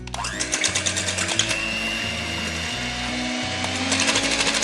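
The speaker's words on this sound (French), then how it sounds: "je vais prendre mon batteur électrique et je vais légèrement les monter en neige" An electric hand mixer whirs loudly and steadily as it whisks egg whites and sugar for meringues, its beaters rattling in a fast, even rhythm throughout, with no talking.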